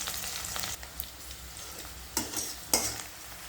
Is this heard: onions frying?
yes